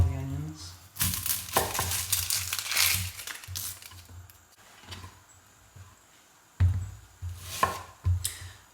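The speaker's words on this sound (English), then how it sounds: "I like to chop them into smaller pieces, small-ish pieces." Onions being chopped with a knife on a board for fajitas, heard as bursts of rapid close thudding cuts separated by pauses, with a low hum beneath and a little talk.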